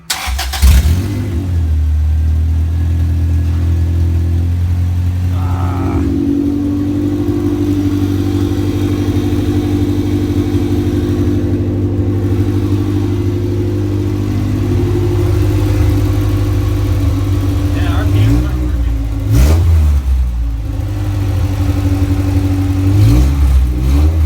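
Honda GSR engine swapped into a VW Bug cranks and starts, then idles with a deep steady rumble, revved sharply a few times near the start and again around the end, loud and close.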